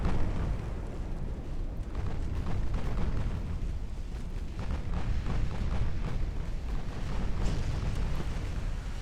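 Sustained, dense naval gunfire from Yamato secondary batteries in the Ultimate Admiral Dreadnoughts naval game, a steady rumbling barrage of overlapping booms and bursts with no talk.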